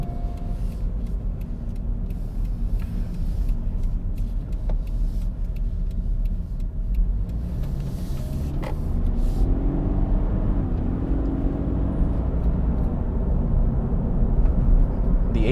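A 2020 Toyota 86 Hakone Edition with an automatic transmission driving along, its engine giving a steady, loud rumbling drone heard from inside the car that swells slightly in the second half, with no talking.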